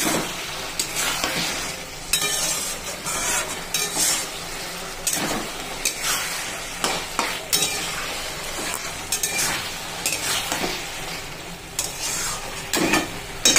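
Bitter gourd slices, fried beforehand, sizzle in a pan of curry while a spatula stirs them, making steady frying hiss broken by repeated clinks and scrapes of metal on the pan.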